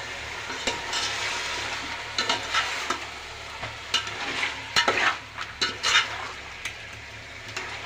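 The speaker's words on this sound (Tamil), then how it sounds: "இந்த சிக்கனை நல்லா கிளறி விடலாம்" Chicken frying with ginger, garlic and onion is stirred in a pan, making a continuous close sizzle with repeated spoon scrapes and light metallic clinks that grow busier toward the end.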